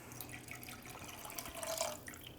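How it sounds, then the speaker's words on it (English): Water pours into a pan of Filipino chicken and rice porridge (arroz caldo), a continuous splashing trickle close by that swells briefly before settling. "We're gonna add in the rest of our water."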